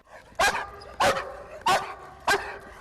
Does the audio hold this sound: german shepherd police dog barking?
yes